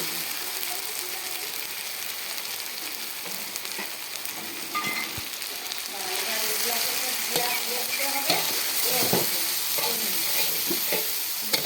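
Katla fish frying in hot oil, a steady crackling sizzle with sharp spattering pops that grow busier and louder in the second half, with faint clinks under it.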